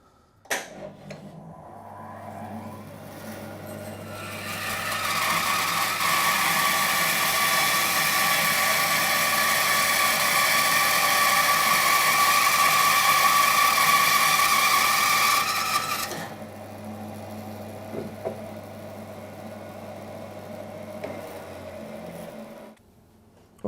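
A Record Power BS400 bandsaw slices a fine veneer from a piece of maple, the cut building to a loud, steady whine for about ten seconds over the motor's low hum, then falling back to idle running.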